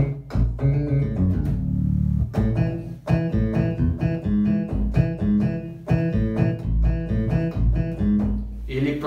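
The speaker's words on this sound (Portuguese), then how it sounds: "vamos reproduzir aqui o som do baixo." Deep electronic keyboard bass notes play a steady rhythmic line, loud and close, with plucked-style attacks and no talking.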